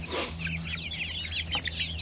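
A flock of about 31 chickens clucking and chirping softly in a steady flurry of short calls, close by with an outdoor hum underneath.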